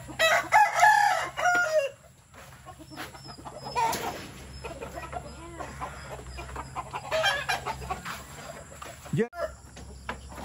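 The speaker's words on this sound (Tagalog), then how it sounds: "Pinapakain nyo na yung manok." Chickens and a rooster on a farm are fed after a typhoon, with goats nearby. Clucking is heard close by, with repeated crowing and bird calls over quiet background noise, and some talk in between.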